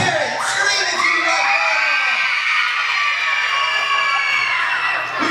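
A crowd of schoolchildren screams and cheers at a school fitness event, a loud, sustained wall of high-pitched shouting and whooping that swells and holds throughout.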